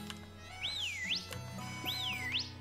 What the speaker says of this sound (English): What was that? Like a whistle?